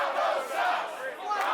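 Wrestling crowd at an IWR 33 independent show jeering in a sustained, dense roar of many voices, rising and dipping slightly over a second and a half with no distinct speech.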